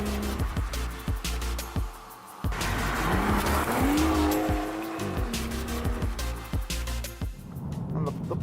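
BMW M estate car with a competition exhaust running in M mode, a loud engine roaring and revving close by with rising pitch sweeps and sharp transient pops, tire-like squeal tones throughout.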